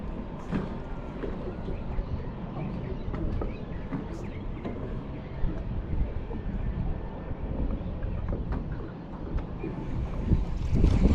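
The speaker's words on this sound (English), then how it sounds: "so the wind just rips through" Steady wind rushing over open water around a fishing boat on a tidal river, a continuous low buffeting roar with gusty bumps against the microphone, no clear talk.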